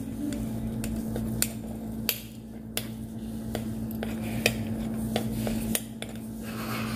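Plantains pounded in a small mortar for mofongo, heard as sharp, irregular knocks and clacks about once or twice a second over a faint steady hum, fairly close and without talk.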